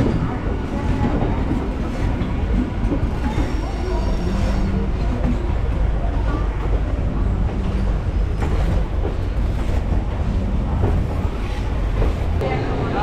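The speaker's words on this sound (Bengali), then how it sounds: "একদম নির্ধারিত সময় 12টা বেজে 5 মিনিটে শিয়ালদহ কোনটা লোকাল ছেড়ে দিল।" A Sealdah local train pulls out and rolls steadily, giving a loud continuous rumble with rattling carriages and clatter from the inside for over ten seconds. Voices from passengers in the crowded coach murmur under the noise.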